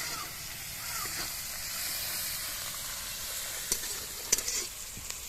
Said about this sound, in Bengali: পেঁয়াজ কুচি ভালো করে লাল লাল করে ভেজে নেব